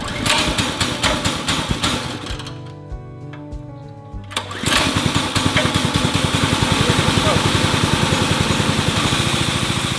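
Small gas engine powering an off-grid milking machine, running loud and steady with a rapid buzzing rhythm, briefly dropping near idle before revving back up and holding a fast, even beat.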